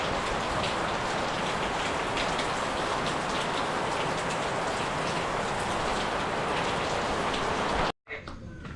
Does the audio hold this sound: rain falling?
yes